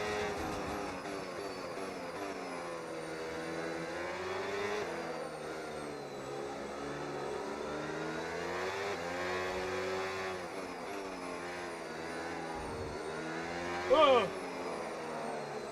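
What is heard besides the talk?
F1 race cars in the video game F1 25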